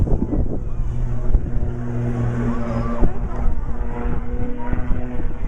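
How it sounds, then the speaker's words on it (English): Blades aerobatic aircraft flying a crossing manoeuvre at an outdoor air display, a steady propeller-engine drone with some low hum throughout, moderately loud, with a brief swell near the middle and faint crowd noise mixed in. "the guys are flying towards each other for the double cross manoeuvre"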